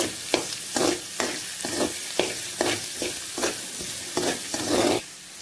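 Chopped onions being stir fried in a hot pan: a strong, continuous sizzle broken by rhythmic scraping strokes roughly every half second, close and loud, with no voices.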